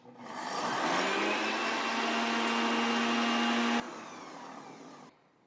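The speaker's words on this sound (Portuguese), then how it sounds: "Vou fazer isso nesse liquidificador porque ele é muito bom para isso" A blender whirs up to a loud, steady high-speed roar grinding oats, holds for a few seconds, then cuts off abruptly and leaves a quieter hum that fades out.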